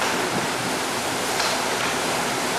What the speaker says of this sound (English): That's the waves coming over the deck.